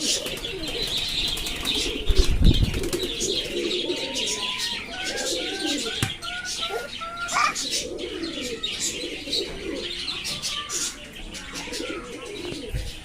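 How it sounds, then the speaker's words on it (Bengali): White doves cooing in a rooftop loft, soft repeated coos with chirps and tweets from other birds around them, plus a brief flutter of wings near the start. "এই যে সাদা ঘুঘু"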